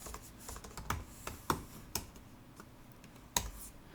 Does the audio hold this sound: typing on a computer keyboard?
yes